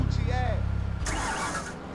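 A low, pulsing bus engine idle in GTA San Andreas rumbles for a moment, then a voice starts talking over a softer engine hum.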